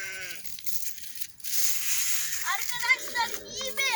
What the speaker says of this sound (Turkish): Ve benim koyunlar da bağırıyor.